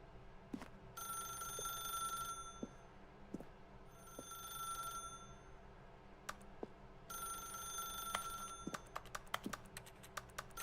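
A video game telephone rings in two long electronic bursts separated by a pause, over quiet ambient background with scattered soft clicks and taps.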